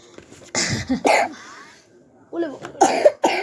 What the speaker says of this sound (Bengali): আমারও কাশি হয়ে গেছে ওর মতো